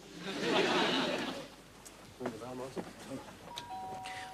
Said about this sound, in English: Rung the bell.